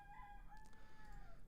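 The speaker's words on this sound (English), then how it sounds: "Fucking roosters, man. They just non-stop crowing out there." Roosters crowing outdoors in the distance, a faint drawn-out call rising and falling over quiet background noise, with no voices.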